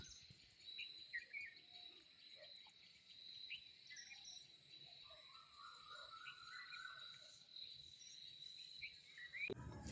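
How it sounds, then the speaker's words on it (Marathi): Crickets trill steadily through a village morning at about seven, with scattered bird calls and chirps over the constant insect chorus, moderately distant and without talk. "पक्ष्यांचा आवाज येतोय."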